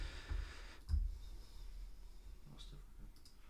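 A computer mouse gives a few faint, sharp clicks spread across a quiet room.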